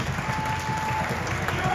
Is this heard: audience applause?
yes